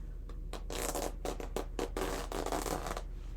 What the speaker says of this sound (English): This is one of my sharper seam rippers.